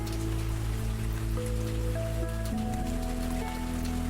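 Steady rain patters on a surface throughout in a horror visual novel game, with a low sustained musical drone beneath it and no voices.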